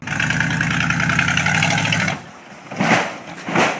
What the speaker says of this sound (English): It sounds like a sputtering bus engine that's kind of struggling.